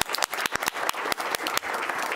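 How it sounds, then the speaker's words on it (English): Audience claps in welcome at a county school board meeting, a brief burst of close, crisp hand claps with no talking. "let's give them a round of applause"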